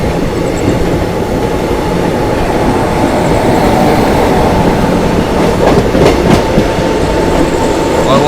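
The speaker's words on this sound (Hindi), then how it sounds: "और वो सामने आ चुकी है भाई पूर्वा एक्सप्रेस, ताबड़तोड़ रफ्तार में आ चुकी है भाई" Purva Express passenger train rushing past at high speed, a loud continuous close roar of rolling wheels and carriages with faint rhythmic clatter over the rail joints.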